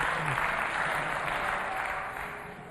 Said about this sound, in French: Applaudissez pour lui.